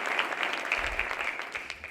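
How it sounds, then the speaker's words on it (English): An audience at a city address applauds the library director and her team. The clapping is brief, fairly faint and diffuse. "A round of applause for her and her team."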